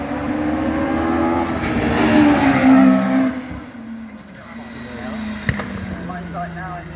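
Race car accelerating up the Shelsley Walsh hill climb, engine note rising and swelling for a few seconds then fading toward the finish, heard over a crowd-like background murmur.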